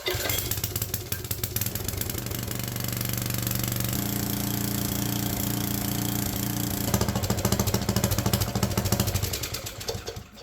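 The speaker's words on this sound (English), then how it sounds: "Part throttle, full choke, and we are off." A Troy-Bilt tiller's small gas engine running at part throttle with full choke, a loud, continuous rapid chugging and rattling drone heard close up, shifting pitch slightly partway through, with no talking.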